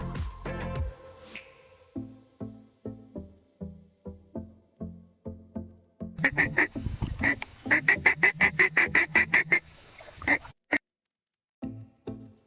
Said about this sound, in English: duck swimming in the water